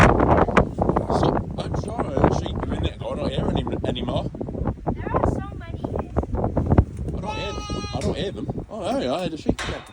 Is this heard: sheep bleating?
yes